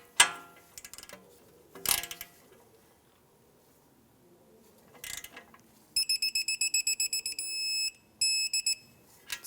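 A torque wrench clicks as it tightens a 16mm castle nut on a 2012-2020 Ford Focus outer tie rod to 35 foot-pounds, with a quick run of sharp, high clicks near the end following scattered clunks and handling noise.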